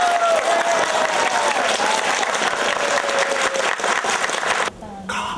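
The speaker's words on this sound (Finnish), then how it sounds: "Ja taputukset," A crowd applauds in a steady, dense clatter of clapping hands that carries on for several seconds before breaking off abruptly, with a faint voice underneath.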